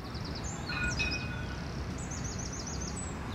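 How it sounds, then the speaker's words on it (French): Small birds sing near a tram line in Avignon, giving short high chirping phrases in two bursts over a steady low outdoor traffic rumble. "On entend les oiseaux."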